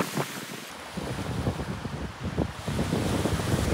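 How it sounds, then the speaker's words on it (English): Big waves wash and surge along a Lake Superior beach under steady wind buffeting, the roar building and staying loud and continuous throughout, with no voices. "Got some big waves on Lake Superior today."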